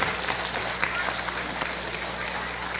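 Audience at a children's prize ceremony clapping steadily in a broad, fairly faint wash of applause, with no clear voices above it.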